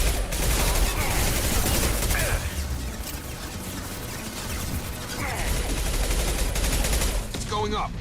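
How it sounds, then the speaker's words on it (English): Incendiary ammo firing in Mass Effect 2, a dense, continuous barrage of loud gunfire and impacts that lasts throughout, with a brief lull in the middle before the shooting swells again. "that's incendiary ammo"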